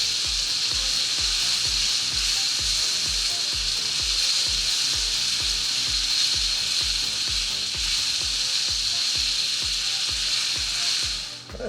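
A brown sugar, butter and pecan mixture sizzles loudly in a pan, a steady frying hiss broken by a regular rhythm of stirring scrapes, close and alone without talk.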